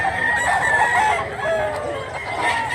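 A bullstag rooster crows nearby at a gamefowl sale in Mantalungon, Cebu, its call rising loud over faint background chatter.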